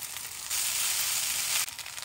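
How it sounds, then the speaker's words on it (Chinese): Shiitake mushrooms hit hot oil in a wok, giving a close, steady hiss that swells louder for about a second and then eases back. "加入香菇爆香"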